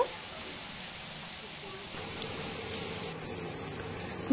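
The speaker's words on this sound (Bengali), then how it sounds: "এবার এই তেলেই আমি ফ্রায়েড রাইসের জন্য কেটে রাখা বরবটি আর গাজর এগুলো ভেজে নেব।" Cut yardlong beans and carrots frying in oil for fried rice, a steady soft hiss and spatter of sizzling that holds evenly throughout.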